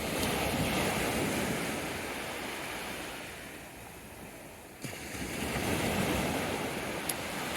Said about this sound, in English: I think it's just wave noise, isn't it?